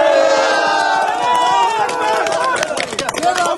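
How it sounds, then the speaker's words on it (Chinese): A loud outdoor crowd cheers and shouts at an earthquake rubble site in Kahramanmaraş as a 44-year-old man is pulled out alive after 162 hours, voices rising together with clattering and scattered claps toward the end. "现场响起欢呼跟掌声。"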